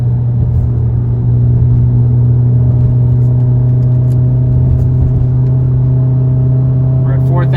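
A Volkswagen MK7 Golf R fitted with a Nameless Performance exhaust drones loudly and steadily as it is held in a lower gear, a constant deep engine rumble that continues unbroken throughout.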